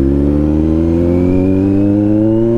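A Kawasaki Z900 motorcycle engine pulls hard and close, a loud steady drone rising smoothly in pitch as it accelerates, with no voices over it.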